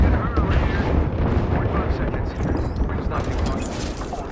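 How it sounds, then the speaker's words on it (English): Airstrike explosions in a video game, a dense, rumbling roar of blasts rolling on continuously and loudly for several seconds, with voices talking underneath. "Watch an airstrike."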